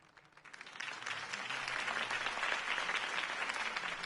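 A crowd at a political campaign event for a city candidate breaks into applause that swells from scattered claps into dense, sustained clapping and holds steady at full strength.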